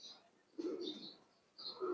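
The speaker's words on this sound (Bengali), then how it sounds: "আমি আগে কবুতরগুলোকে খাবার দিয়ে নিই এইগুলোকে" Pigeons being fed give a few soft, short coos and chirps close by at a low level.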